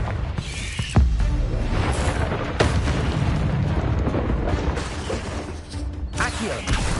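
Confringo blast spells in the video game Hogwarts Legacy erupt as loud booming explosions over a continuous dense rumble, with sharp bursts near the start and again midway.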